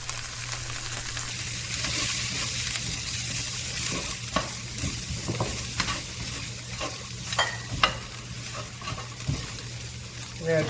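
Onions, peppers and celery sizzle and fry steadily in hot oil in a pan, with occasional stirring clatter, for Cajun fried rice; no talk.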